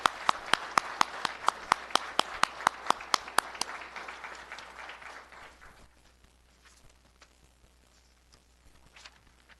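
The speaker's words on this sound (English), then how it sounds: "Please give them a round of applause." Applause for a graduating fire and rescue academy class, starting with strong, evenly spaced sharp claps that soften and thin out after about six seconds into scattered light clapping.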